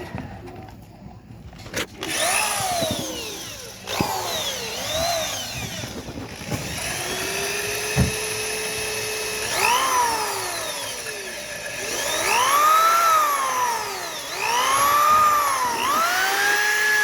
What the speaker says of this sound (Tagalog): Barena na lang para mabilis.